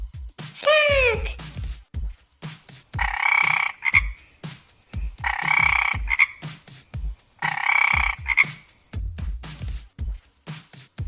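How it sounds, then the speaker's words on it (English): Several loud frog croaks, one short rising call followed by three evenly spaced, longer buzzing croaks, each standing alone against low background music. "Frog."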